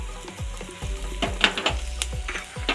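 Finely chopped ginger and four small shallots frying in oil, a close steady sizzle broken by repeated rhythmic scrapes and stirring knocks of a spoon against the pan.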